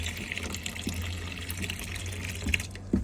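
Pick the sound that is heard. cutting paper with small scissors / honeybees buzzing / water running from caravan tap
water running from caravan tap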